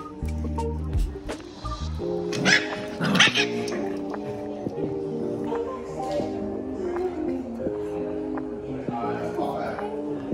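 Excited puppies at a hotel in the Philippines yip, bark and whimper in short bursts close by, mixed with people talking over them.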